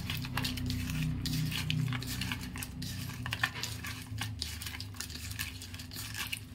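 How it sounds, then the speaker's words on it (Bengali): Pieces of fish are worked together with salt and turmeric by hand, giving faint, soft squishing and light clicks against the bowl in a steady, close but quiet rhythm. "এখানে অনেকগুলি মাছ আছে, মাছগুলিকে ভালো করে মেখে নেব।"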